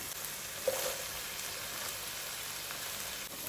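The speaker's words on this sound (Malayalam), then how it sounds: "ഉള്ളിയും ചേർത്ത് ഒരു രണ്ട് മിനിറ്റ് വഴറ്റിയെടുക്കാം" Onions and chicken sauté in a pan with a quiet, steady sizzle that holds throughout, plus one small pop early on.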